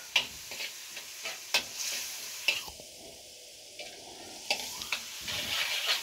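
Masala mixed with tamarind pulp being roasted and stirred in a pan for kala chana chaat, giving a soft, steady sizzle broken by scraping stirs, with no talking.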